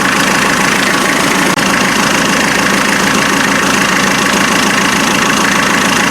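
A Land Rover Defender 2.5 litre naturally aspirated diesel idling at around 800 RPM, a loud, steady, close knocking clatter with an even rhythm throughout.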